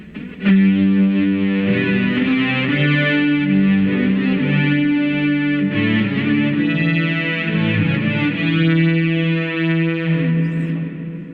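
BOSS SY-1 guitar synthesizer pedal playing a long-sustain synth patch, with notes and chords ringing on smoothly and overlapping, steady and close for about ten seconds before trailing off.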